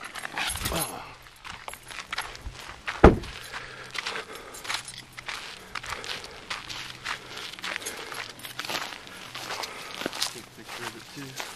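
Footsteps walking over to a trail map at Eagle Island State Park in Idaho, a steady run of soft, close steps with a sharper knock partway through and people talking over them.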